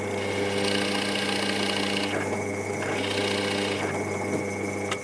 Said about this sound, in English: I'm just going to drill a shallow hole.